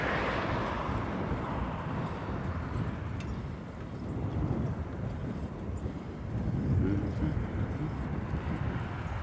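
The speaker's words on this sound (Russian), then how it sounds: "На улице ветер." Outdoor wind on a street in Pechenega, roaring steadily as broadband rumble and buffeting against the microphone, with gusts swelling and easing over about nine seconds.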